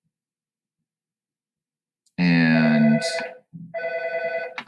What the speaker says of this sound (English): Sorry about the phone in the background there.